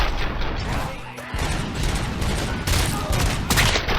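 Repeated gunfire from RoboCop: Rogue City, a first-person shooter game, comes as dense continuous bursts with booming impacts, loud throughout with a brief lull near the middle.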